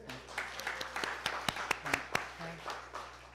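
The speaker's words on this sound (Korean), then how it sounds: "박수 한번 해주세요" A small church congregation claps steadily for a few seconds during a Sunday service, moderately loud, with faint voices mixed in.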